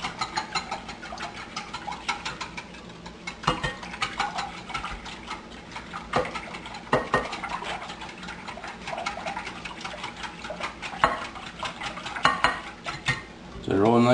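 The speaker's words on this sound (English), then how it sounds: "And we whisk all those up." Eggs being whisked in a bowl for Old English Yorkshire pudding batter, a steady rapid clatter of whisk against the bowl with occasional sharper knocks, close and fairly loud throughout.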